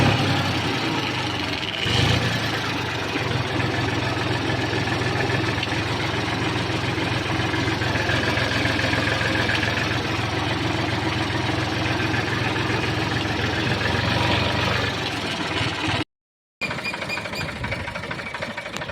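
A New Holland 4710 four-wheel-drive tractor with a 50-horsepower three-cylinder engine idles close by, a steady low diesel rumble that runs unbroken for nearly the whole stretch, with no talk over it.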